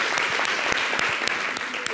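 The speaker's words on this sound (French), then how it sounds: "Merci de l'applaudir." Studio audience applause on a French-language variety talk show, a dense steady patter of many hands clapping at close range, filling the short stretch without talk.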